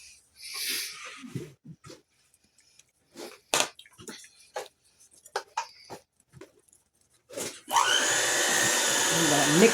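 An electric hand mixer whirs on low speed through cake batter with butter, starting after a stretch of quiet talk and breathy kitchen sounds, then running steadily and fairly loud to the end.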